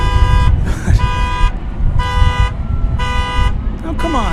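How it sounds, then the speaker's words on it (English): Car horns honk in repeated long blasts, roughly one per second with short gaps, loud and close, with a rising whistle-like tone at the end over background noise near an airport. "honk if you love Runway DFW."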